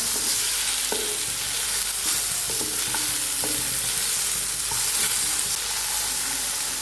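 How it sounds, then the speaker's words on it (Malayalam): Chopped tomatoes sauté over a low flame for a curry. A continuous hissing sizzle runs throughout, with occasional stirring clinks and scrapes, close-up and fairly loud, with no voices. "അതും കൂടെ ഇട്ട് കൊടുക്കാം ചെറിയ ഫ്ലെയിമിലിട്ട് വേണം വഴറ്റാൻ"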